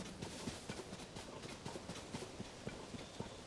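Steady clip-clop of horse hooves at a walking pace in The Legend of Zelda: Tears of the Kingdom, soft and fairly distant, with a light hiss underneath.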